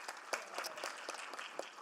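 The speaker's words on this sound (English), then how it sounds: "We'll give you a round of applause." An audience at a special council services committee meeting applauds students from a mock council, with steady, soft clapping from a room of people heard at a distance, with no speech over it.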